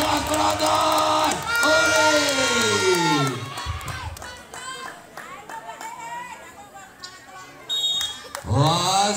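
Spectators cheer and shout loudly at a women's volleyball final in a village sports event, a dense crowd roar with a commentator talking over it and bursts of whistling and yells.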